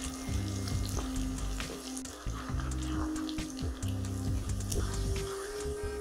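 Chopped garlic and ginger frying in a pan until brown, a steady moderate sizzle running throughout under a backing of rhythmic low musical notes.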